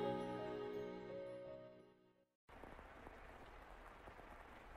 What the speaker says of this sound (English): The sound of the rain never seems to stop.